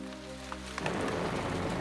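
Heavy rain pours down steadily and loudly after a brief lull, a dense continuous wash with no voices; any thunder is not distinct.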